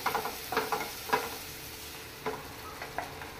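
Masala paste for restaurant-style matar paneer fries in a pan over medium heat, giving a soft sizzle broken by several clear scraping stirs of the spoon, close by with no talk.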